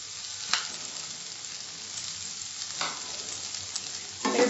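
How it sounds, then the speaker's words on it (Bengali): Ginger garlic paste fries with softened tomatoes for an Andhra-style boiled egg masala, making a steady close sizzle with a few louder stir scrapes, no voices. "এটা একটু কষিয়ে নেবো 4 সেকেন্ড।"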